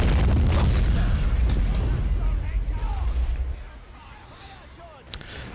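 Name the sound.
artillery strike explosions in the video game Men of War: Assault Squad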